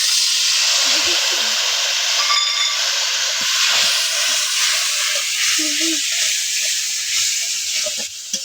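Water poured into a hot pan while making dal puri and aloo dum sets off a loud, steady hiss of steam and sizzling that fades slightly toward the end, with faint background sounds.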